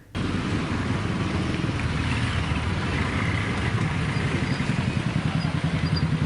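A group of women ride motorcycles past, the engines giving a steady, loud, continuous drone with a rough rhythmic clatter that holds throughout.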